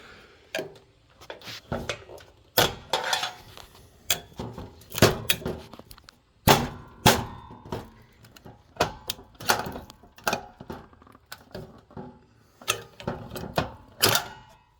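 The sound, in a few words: prying ballasts out of fluorescent light fixture with flathead screwdriver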